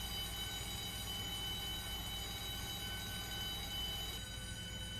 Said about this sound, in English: Now that jetways are animated, they make sound when moving too.